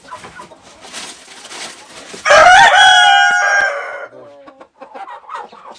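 A rooster crows once, loud and close, a long drawn-out call that rises and then holds before trailing off, coming after a stretch of quieter farmyard background with faint clucking.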